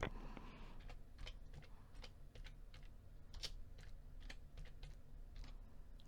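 Keys tapped on a computer keyboard while codes and company details are entered in accounting software, a quiet steady run of light clicks with brief pauses, close by and alone.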